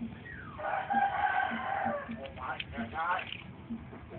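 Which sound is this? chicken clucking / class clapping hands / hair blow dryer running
chicken clucking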